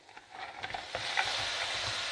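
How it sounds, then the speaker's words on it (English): A buckwheat salad mixture sizzles and hisses loudly in a hot pan as liquid and ice cubes are added. A spoon stirs and scrapes through it, close up, and the sizzle keeps going throughout. "And that's going to sizzle away, that's all right."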